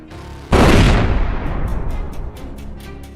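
A single loud rifle gunshot cracks out during a night wild boar hunt, a sharp blast followed by a long rumbling echo that fades over a few seconds, with faint rhythmic ticks afterward.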